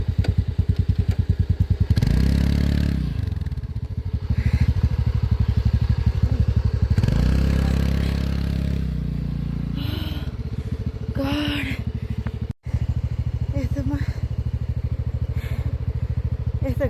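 A motorbike engine labours loudly uphill along a rough, bushy track, its revs swelling and easing in waves with knocks and clatter from the bumpy ground, and a voice is heard faintly beneath.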